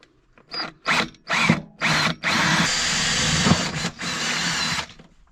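A power drill whirs in several short bursts, then runs in one long sustained stretch before stopping, drilling holes into a new fridge during a camper van conversion; close and fairly loud, no voices.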